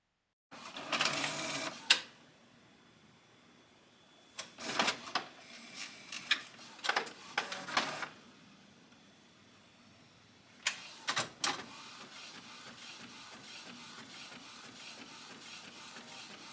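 A sublimation printer prints in short bursts: whirring and clunking passes separated by quiet gaps, then a steady low hum of the machine running.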